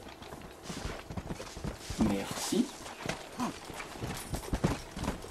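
Horse hooves clip-clop at a steady walking pace in the video game Red Dead Redemption, close and moderately loud, with someone speaking briefly over the hoofbeats.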